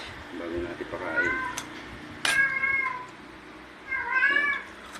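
A pet cat meows three times in drawn-out, wavering calls, fairly close over a noisy indoor background.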